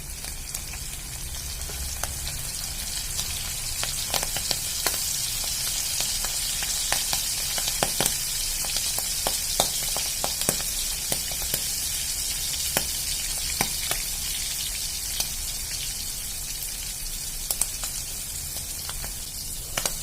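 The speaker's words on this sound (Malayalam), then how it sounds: "വെളിച്ചെണ്ണയിലിട്ട് വറുത്തെടുക്കാം" Squid heads frying in coconut oil, a continuous sizzle with scattered sharp pops and crackles throughout, fairly close and even in loudness.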